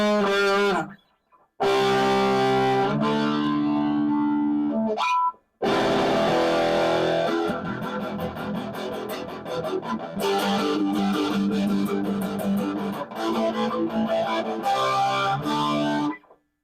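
An electric guitar runs through a cheap Temu drive pedal with the distortion cranked, heavy fuzzy chords and riffs with brief stops between phrases, loud and close with no voices.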